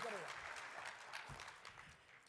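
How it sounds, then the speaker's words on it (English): Applause at an afternoon plenary session honoring a committee chair, a quiet, steady patter of clapping from a crowd with some voices over it. "Clapping."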